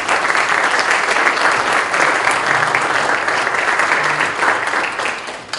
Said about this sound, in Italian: Un applauso per Laura Magnone.